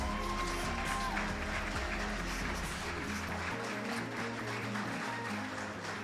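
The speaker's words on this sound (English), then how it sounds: "One more round of applause." Audience applause at an eco fashion event, a steady even spread of clapping with low hum and tonal background sounds underneath for about six seconds.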